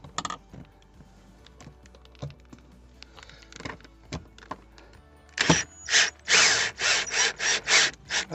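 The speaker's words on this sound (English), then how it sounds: "I put a little bit of Loctite on the bolts, and I'm gonna put the bolts in down." A ratchet drives Loctite-coated bolts into a Cadillac Escalade fuel pump assembly: scattered light clicks at first, then a loud run of rapid, evenly spaced ratcheting bursts close by, with no talk.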